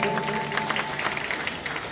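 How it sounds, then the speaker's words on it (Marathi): Applause from an audience welcoming a singer onto a stage at a dindi procession event, a dense spatter of claps held at a steady level for a couple of seconds beneath a faint sustained tone. "जोरदार टाळ्यांच्या गजरात स्वागत करायचंय."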